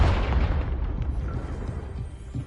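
A Confringo fire spell explodes in Hogwarts Legacy with a loud, low booming blast that rumbles on for a couple of seconds, with a smaller secondary thump near the end.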